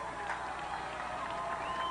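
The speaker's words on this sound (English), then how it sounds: "Chris Hackett gets a cheer from the sidelines" A crowd at a 1992 high school football game between Riverview and Countryside cheers from the sidelines in a steady, slightly distant roar, with an announcer talking over it.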